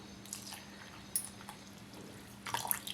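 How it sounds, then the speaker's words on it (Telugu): Half a cup of milk is poured into a blended coconut mixture for coconut laddu, making faint, brief liquid splashes and drips up close in an otherwise quiet kitchen. "దీనిలో ఇప్పుడు హాఫ్ కప్పు పాలు పోద్దాం"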